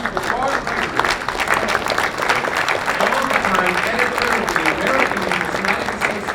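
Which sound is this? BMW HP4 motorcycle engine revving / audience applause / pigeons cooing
audience applause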